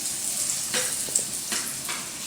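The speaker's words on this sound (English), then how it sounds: "And then we stick it in the frying pan." Steady sizzling of breaded oysters frying in a pan, with a few soft clinks and stirring sounds over the constant hiss.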